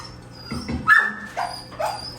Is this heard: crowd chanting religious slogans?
no